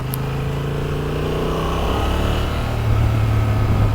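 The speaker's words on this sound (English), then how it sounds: "It sounds like it's like a rattling sound." Honda Transalp XL750 (2023) motorcycle engine running steadily with a close, mechanical rattling hum that grows slightly louder near the end, with no talk.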